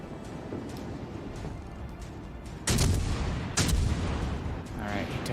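Heavy naval guns boom twice in World of Warships, two loud broadband blasts about a second apart rising over a steady rumble of ocean and engine noise, with a voice talking faintly underneath.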